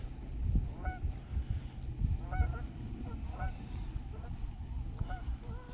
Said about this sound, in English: And geese.